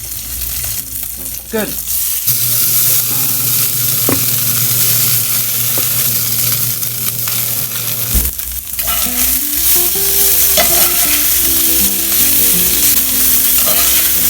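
Pork pieces for carnitas sizzle and crackle steadily in hot shimmering oil, a loud continuous frying hiss with occasional stirring clatter, and a brief spoken word near the end.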